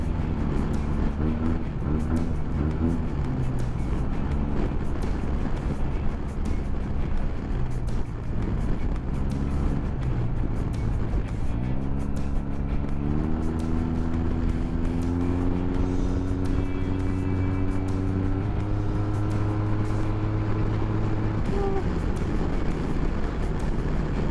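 A Yamaha TMAX 2023 scooter with its windshield lowered rides along, steady engine drone rising in pitch as it accelerates through gears, wrapped in continuous loud wind rush close to the rider.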